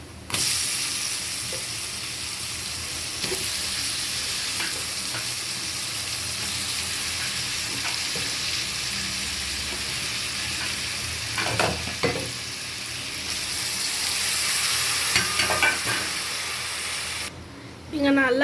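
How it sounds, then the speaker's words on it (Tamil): Tomatoes with chilli powder and spices sautéing in a pan for a tomato sambar, a steady sizzle and hiss with occasional stirring clatter throughout, close and continuous with a brief lull near the end. "இது நல்லா வதங்கட்டும்"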